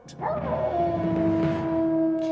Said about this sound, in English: his dog howled in the moonlight